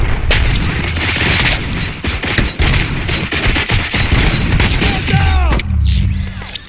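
Loud, rapid gunfire rattles in RoboCop Rogue City, bursts of automatic shots and impacts crowding together, with mechanical clanks and a few short voices near the end.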